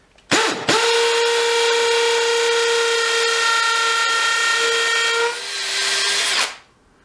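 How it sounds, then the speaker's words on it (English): A Milwaukee cordless hammer drill bores into masonry in one long, loud burst, its steady whine dipping briefly near the end before it stops. "let's try the other Milwaukee drill that we've never tried in masonry before"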